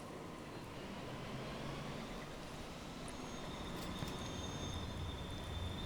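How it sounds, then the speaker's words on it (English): Train rolling into a cargo station in Transport Fever 2, a steady low rumble of wheels on track with faint metallic squeals, holding at even loudness throughout. "The train coming in."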